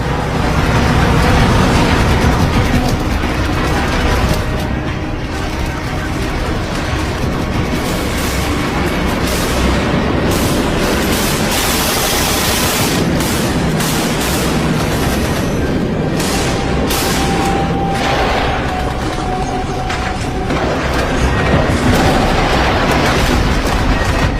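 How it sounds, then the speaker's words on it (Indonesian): Katyusha rocket barrage and artillery bombardment with gunfire in the battle of Berlin, a dense, loud, continuous roar of blasts and rumbling booms layered with crackling shots, unbroken throughout. "Setelah serangan Katyusha dan artileri selesai"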